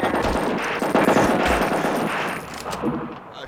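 Rapid, loud AK-47 automatic fire in a video game, a dense continuous burst of shots that fills the whole moment and eases slightly toward the end.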